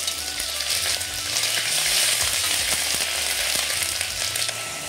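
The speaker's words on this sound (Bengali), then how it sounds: "ওই তেলের মধ্যে দিচ্ছি ছোট এলাচ আর দারচিনি। এবারে দিয়ে দিলাম কাঁচা লঙ্কা পাকা, আর দিয়ে দিচ্ছি আদা বাটা" Cardamom, cinnamon, green chili and ginger paste frying in white cooking oil, a loud, steady, dense sizzle with faint crackles that swells slightly midway and runs unbroken throughout, with no voices.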